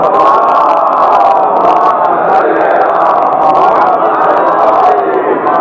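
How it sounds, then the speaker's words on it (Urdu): A large crowd at a Shia religious gathering recites salawat aloud in unison, a loud, dense, sustained chorus of many voices filling the hall without pause. "ایک صلوات پڑھیں ذرا محمد۔"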